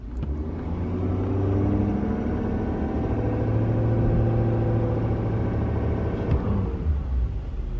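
A 2017–2019 Ford F-250/350 pickup truck engine revs hard and holds steady while the driver brake-boosts for a launch, a loud sustained roar that drops off sharply near the end.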